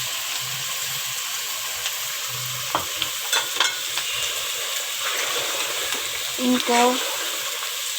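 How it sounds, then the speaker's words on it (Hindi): Tomatoes and green chillies tipped into mutton frying in ghee in a handi for karela gosht, with steady sizzling, busy spoon stirring and scraping, a few louder clatters near the end and a brief voice over it. "तो अब मैं इसमें ये जो टमाटर और हरी मिर्चें थी ये मैं डाल रही हूँ।"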